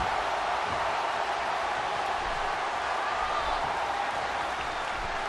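Arena crowd applauding wrestling competitors during a three-way match, a steady, dense wash of clapping and cheering filling the space continuously, loud and without pause.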